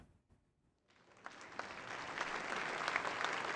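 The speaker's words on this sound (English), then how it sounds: "applause finally breaks out across the audience that gradually swells with enthusiasm" Near silence gives way to clapping from a crowd that swells steadily into sustained, enthusiastic applause, in the video game Arknights.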